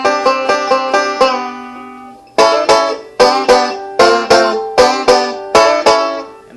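A banjo is picked in quick rolling notes, with the third string bent up a half step, then a steady pattern of sharp plucked notes, close and clear with nothing else behind it.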